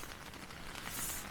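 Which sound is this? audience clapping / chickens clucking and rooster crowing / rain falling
rain falling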